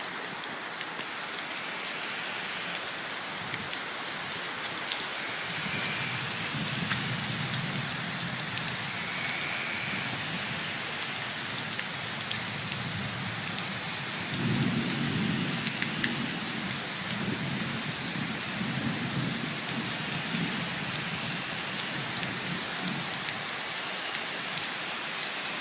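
Steady heavy rain pours throughout a thunderstorm, a dense hiss on surfaces nearby, with low rumbles of thunder swelling twice in the background.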